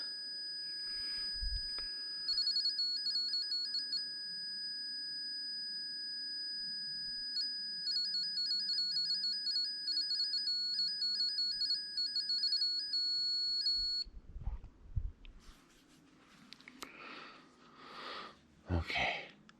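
A cell phone rings with a steady electronic ringtone that repeats in pulsing bursts for several seconds, then stops, followed by handling noises and brief muffled sounds near a Ford Galaxie.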